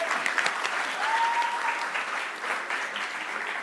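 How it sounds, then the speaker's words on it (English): A graduation ceremony audience breaks into steady, sustained applause, many hands clapping together at moderate distance in a large hall. "A round of applause to Ms."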